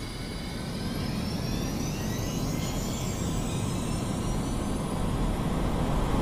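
A Su-27, MiG-29A or Su-25 jet in a flight simulator game, its engine roaring in a steady, loud, broadband rumble with a rising whine as it takes off, alone without talk.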